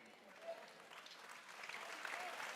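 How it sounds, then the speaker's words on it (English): A crowd at the Heal Dallas gathering gives a round of applause, a steady wash of many hands clapping at moderate distance, fairly soft, with a few voices and cheers mixed in. "Can you give them another round of applause?"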